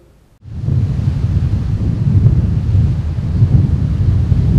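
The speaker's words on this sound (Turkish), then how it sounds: "Beklenen fırtına bugün öğle saatlerinden itibaren kent merkezinde etkili olmaya başladı." Storm wind roars in over Çanakkale after a brief quiet moment, a loud low buffeting rush that keeps blowing steadily.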